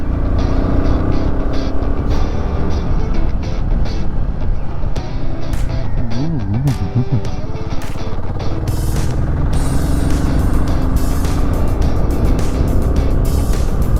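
A motorcycle rides along twisty mountain roads near the Meteora monasteries in Greece, its engine droning steadily and loud under heavy wind rush, with the pitch shifting briefly midway.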